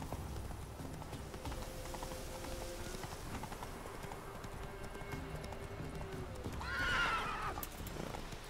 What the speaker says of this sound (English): Back on the horse.